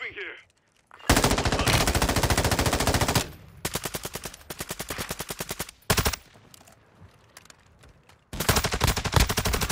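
Automatic weapon fire in Call of Duty Warzone on Ashika Island, with loud, close bursts of rapid shots separated by short pauses and a final burst, played alone without talk.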